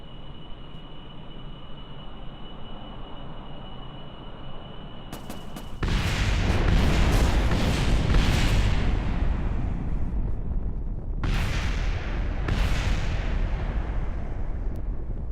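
A rocket in Kerbal Space Program veers off course and explodes: a quiet engine hum first, then a sudden loud roaring blast at about six seconds and further booming bursts later, with no talk.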